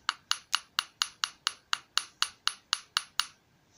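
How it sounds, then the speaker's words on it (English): Wire is hammered flat on a metal plate, giving thirteen sharp, bright metallic taps at an even, quick rhythm, close and clear, with a short ring after the last strike. "So just enough to hold it down so it's not bouncing while you're hammering."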